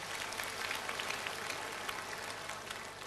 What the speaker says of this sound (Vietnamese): Xin cho bác một tràng pháo tay lớn đi anh chị em.